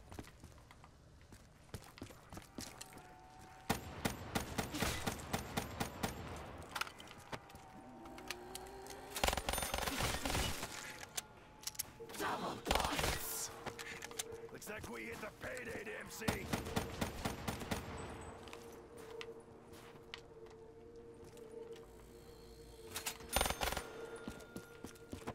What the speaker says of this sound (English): I need to buy this pistol. Can I aim and shoot it?